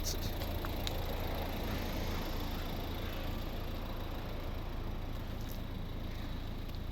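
A 2012 Volvo V50 with a 1.6 D2 diesel engine idles in a steady, low, continuous rumble that holds even and unbroken from start to finish, with no voices over it.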